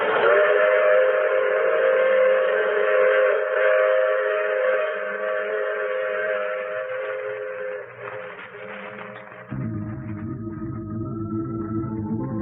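A train whistle holds a long, steady chord while the rumble of a departing train continues underneath, its low clatter rising near the end; a radio drama sound effect.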